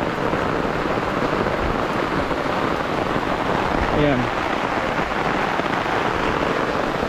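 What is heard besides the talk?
heavy rain falling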